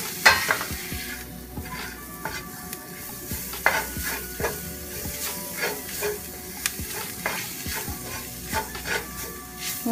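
Flour cooks in a pan for shepherd's pie with a soft, steady sizzle, while a spoon scrapes and stirs it in irregular close strokes, with no voices over it.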